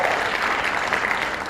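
Audience applause from a podcast crowd, a steady dense wash of clapping holding at full level for the whole short stretch with no voices over it.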